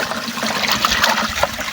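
Water pouring and splashing steadily at an outdoor spot where people collect drinking water, a continuous close rushing flow with no voices.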